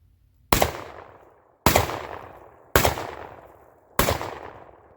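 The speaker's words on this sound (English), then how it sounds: "we got Fiocchi 8 loaded in the shotgun" Four loud, sharp shotgun blasts from a Panzer EG200 loaded with Fiocchi 8 shells, evenly spaced about a second apart, each with a decaying echo tail and no talking.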